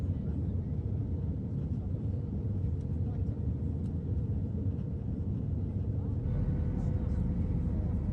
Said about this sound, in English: This EasyJet plane being escorted by a fighter jet after a false bomb threat.